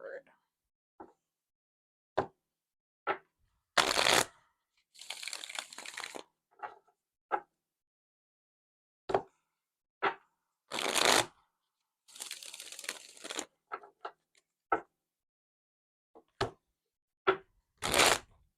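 Cards are shuffled in a series of quick riffling bursts separated by silences, with a few short taps and snaps between them, close and crisp.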